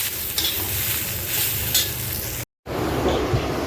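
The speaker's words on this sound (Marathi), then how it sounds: "दहा पंधरा मिनटं कांदा शिजेपर्यंत मम्माने सांगितलं की सारखं असं हलवत राहायचं आहे" Onions stirred steadily in a hot pan, a continuous sizzle and frying hiss with scraping strokes, close and loud, broken by a brief gap of silence near the end.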